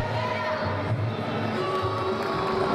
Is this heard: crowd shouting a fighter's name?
yes